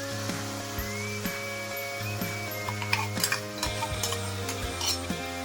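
An onion and curd paste with tomatoes fries in oil while being stirred, giving a continuous sizzle with regular scraping strokes and a few metallic clinks over a steady low background hum.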